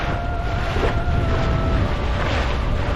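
A sailing boat is underway in 12 to 13 knots of wind. A steady, loud roar of wind buffets the microphone over the rush of water, continuous and without speech.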